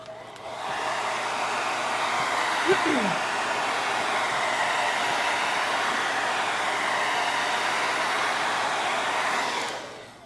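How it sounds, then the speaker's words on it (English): A blow dryer drying stencilled paint on a sign whirs steadily up close for about ten seconds, a constant airy roar that starts and stops abruptly. "I probably will go ahead and just hit that with a blow dryer for a hot second."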